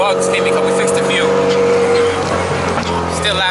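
A boosted AWD Honda Accord with a very loud exhaust is driving, heard from inside as a continuous heavy roar and drone whose engine tone shifts as it pulls.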